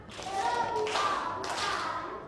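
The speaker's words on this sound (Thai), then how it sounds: "ปรบมือ3ครั้ง" A class of children in a Thai primary school lesson claps in a few short, evenly spaced bursts, faint and slightly distant over a low room hum.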